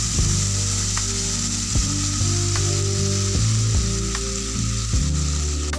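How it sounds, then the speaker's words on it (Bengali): Steady loud sizzling of spice paste with cashew paste frying in a pan, with a spatula scraping and clicking against the metal every second or so. "মশলার পেস্টটা দিয়ে দিয়েছি, এটাকে অল্প একটু নাড়তে হবে"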